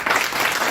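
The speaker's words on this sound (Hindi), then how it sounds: "उनके लिए जितनी तालियां बजाएंगे बिल्कुल कम होगी" Applause at a Hindi poetry gathering at Yashwant College, Nanded, honoring Dr. Sunil Yadav's event: a dense, steady wash of many hands clapping, loud and close, continuing unbroken through the brief moment.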